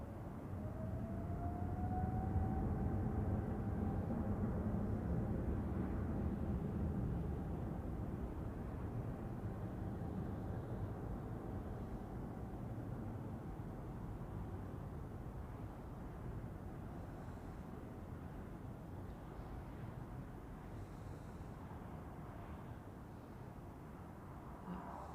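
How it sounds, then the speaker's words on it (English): A Singapore Airlines flight 345 airliner takes off at Zurich Airport, its broad, steady jet roar sustained throughout and easing slowly as it climbs away, with no voices. "And here we go, takeoff for Singapore 345 to guess where?"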